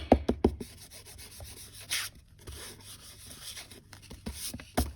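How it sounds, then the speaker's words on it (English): An embossing buddy is rubbed briskly over card stock in short scrubbing strokes, close and dry, with a few light taps and knocks in between. "so we start off with our embossing buddy"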